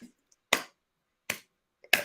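Three sharp finger snaps spaced unevenly apart, crisp and close, used as a mock applause, with near silence between them.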